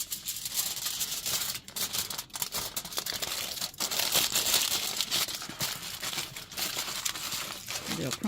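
Material is crumpled and crinkled by hand for a spooky miniature tree diorama, a continuous close crackling rustle with sharper crinkle bursts throughout.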